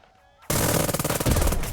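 Machine gun fire in the video game Burden of Command: after a near-silent half second, a loud, continuous burst of rapid, closely spaced shots rattles on to the end.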